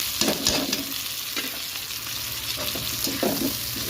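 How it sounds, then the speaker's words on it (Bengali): Onions and chhana (cottage cheese) fry in a pan with a steady close sizzle and occasional stirring scrapes, no voices. "এই যে পেঁয়াজ ভাজা হয়ে গেল আর এই যে ছানাটা হচ্ছে দিয়ে দেবো"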